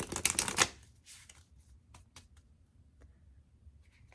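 Oracle cards riffled and shuffled by hand, a brisk close flurry of papery flicks at the start, then a few scattered soft taps and card snaps in a quiet room.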